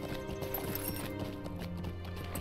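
Horse hooves clip-clopping in a steady, rapid rhythm as a character rides across the North Downs in the Lord of the Rings Online video game, with continuous game music and ambience underneath.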